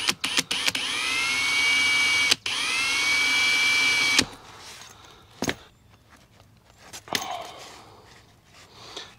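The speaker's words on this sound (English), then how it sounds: "I probably should have got a smaller drill bit first and kind of worked it in" A cordless drill with a heavy-duty bit bores a hole while building a DIY disc golf cart. It gives a loud, steady whine for about four seconds with a short pause, then stops, followed by scattered knocks and handling clatter.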